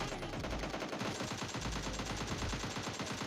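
Rapid automatic gunfire bursts out in the video game PUBG Mobile Lite, a dense string of sharp repeated shots in quick succession with brief pauses, fairly quiet in the mix.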